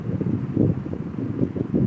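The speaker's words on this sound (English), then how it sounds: "it's real windy out here" Strong wind buffets a microphone outdoors, a loud low rumbling roar that surges in gusts, with no other sound above it.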